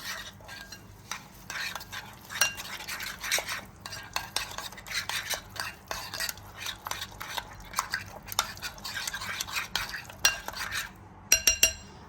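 A spoon stirs ground spices and garam masala into a beef liver marinade in a bowl, making quiet, repeated scraping and light clinks against the sides, with brief sharper clatters near the end and no talk.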